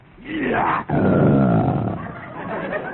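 A human voice imitates a lion's roar, delivering two loud, close, growling bursts with a brief break between them, and the second one trails off gradually.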